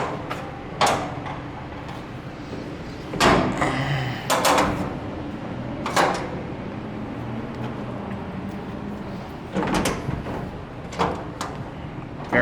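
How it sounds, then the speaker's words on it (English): Heavy manual door of a vintage Montgomery hydraulic freight elevator in a university civil engineering building, giving several loud, sharp clanks and bangs spaced across the clip over a low background hum. "Very heavy door."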